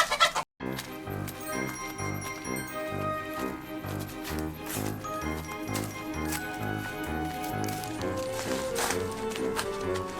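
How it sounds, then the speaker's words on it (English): Chickens cluck and a rooster calls amid a busy, rhythmic background with jingling tones, continuing steadily throughout. "I think that might be a rooster"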